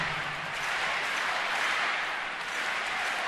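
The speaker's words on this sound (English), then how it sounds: "Big crowd trying to exhort the home team to get back in this one." A big crowd at a baseball stadium applauds in a dense, continuous wash of clapping that holds steady throughout.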